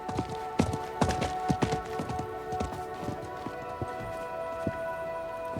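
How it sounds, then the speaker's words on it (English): Hooves of a horse gallop in the Diablo 4 video game, a quick run of clip-clop beats that soon thins into scattered, fading hoof strikes under a steady musical drone. "I think that was the merchant's horse."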